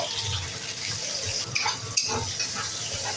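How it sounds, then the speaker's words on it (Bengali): Onions fry in hot oil in a pan with garlic and green chillies for mixed chow mein, a continuous sizzle broken by a couple of sharp clinks and stirring scrapes. "পেঁয়াজ দিয়ে একটু ভাজা ভাজা করে দিই।"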